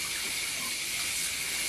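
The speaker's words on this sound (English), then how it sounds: "So yeah, so you're just going to want to wet your hair totally." Tap water pours steadily as hair is soaked through, a continuous close hiss of running water with no break.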